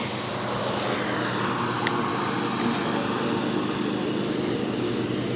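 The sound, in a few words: lawn mower running in neighborhood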